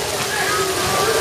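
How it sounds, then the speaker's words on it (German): A heavy rain downpour pours at SeaWorld Orlando theme park as a dense, steady roar of splashing water, loud and close, with a voice talking over it. "Ja, so gegen 16 Uhr, da kommt man richtig Regen runter"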